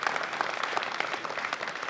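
Audience at a world equipped powerlifting championship giving an even, continuous round of applause, with many hands clapping at a moderate distance and no pauses.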